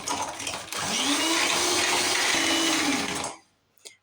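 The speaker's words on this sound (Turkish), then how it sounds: "köpük köpük olana kadar bir mikser yardımıyla e, çırpacağım" An electric hand mixer whisking eggs until foamy runs with a steady, loud whirring motor for about three seconds, then cuts off, followed by a faint clink.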